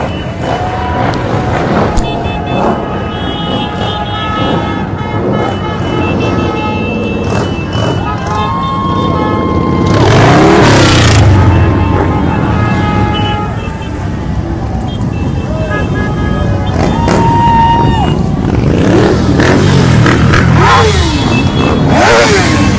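Dykes on Bikes motorcycles ride past in the West Hollywood Pride parade, their engines revving and rumbling in loud surges amid crowd noise, while someone talks over the procession.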